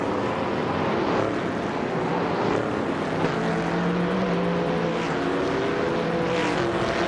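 A 1972 Ford Torino race car roars in a racing video game, its engine a continuous loud drone with shifting pitch sweeps as it accelerates and holds speed, steady throughout with no talk.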